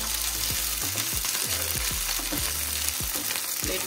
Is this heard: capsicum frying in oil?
yes